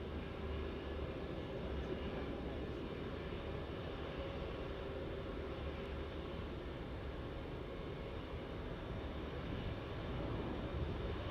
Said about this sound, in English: This is the Qantas A380 QF64, Johannesburg to Sydney. Flying over the top.